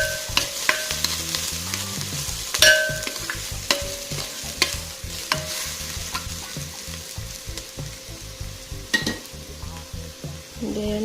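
Chicken afritada browning in a frying pan, with a continuous close sizzle and repeated rhythmic stirring scrapes and taps throughout.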